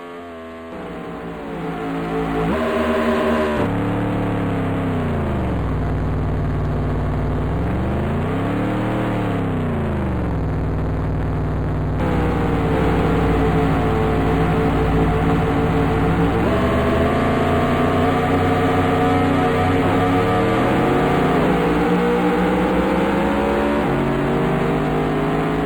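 Simulated race car engine in the 1994 NASCAR Racing video game, beta version: a continuous loud, synthetic motor drone rising and falling in pitch with gear shifts and revs over about 25 seconds, no voices.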